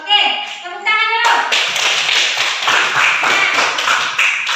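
A Grade 8 class claps together after a student presents. Rhythmic, sharp claps start after a brief stretch of a voice and continue steadily, close and lively.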